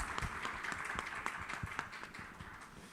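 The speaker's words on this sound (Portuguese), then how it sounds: "Quero uma salva de palmas para os dois." Brief, quiet clapping from a panel audience, a handful of irregular claps over a soft wash of background noise, fading slightly toward the end.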